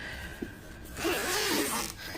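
A zipper is pulled open on the carrying case of a Holystone HS720 camera drone during an unboxing. One close, smooth rasping pull follows a small click, in a quiet room.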